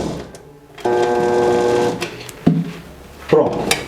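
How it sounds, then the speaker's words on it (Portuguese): An electric stand mixer whirs steadily while beating cookie dough for buttery corn biscuits, a loud humming motor that winds down and stops, followed by a few clattering knocks. "Agora é só desligar a batedeira e ver como a massa ficou"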